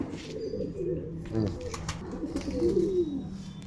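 Soft, throaty coos from Malwai pigeons roll out several times at close range, mixed with faint rustling and a quiet voice in the background.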